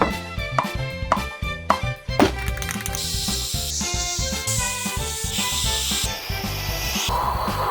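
Spray paint hisses onto a handmade Super Bell power-up model, a series of short bursts at first, then longer continuous sprays over a backing of music.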